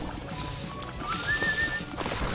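Whistled tune from a video game, a thin sustained melodic line rising and holding over a busy game soundscape, moderately loud for about a second.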